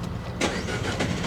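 A Dodge Dart with a 1.4 turbo engine cranks and fires. Brief starter bursts lead into a rough, close engine catch, loud and noisy over the short span.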